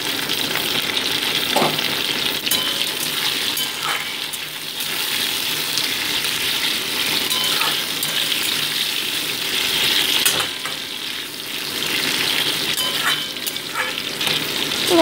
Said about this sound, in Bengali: আলুর টুকরোগুলো দিয়ে মোটামুটি আমি এটাকে 2 মিনিট ভেজে নিচ্ছি।